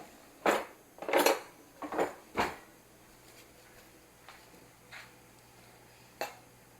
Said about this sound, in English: Let me get my bench scraper.